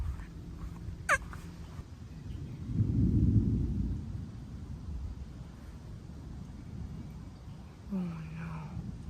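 Low thunder rumbles after a large lightning strike during a thunderstorm, swelling to a broad peak midway through and then fading, with quiet background and brief faint bird-like calls.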